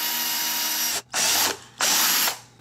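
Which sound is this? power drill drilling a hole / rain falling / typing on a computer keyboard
power drill drilling a hole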